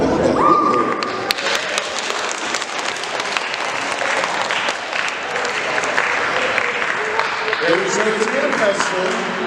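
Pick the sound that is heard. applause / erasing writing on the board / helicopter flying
applause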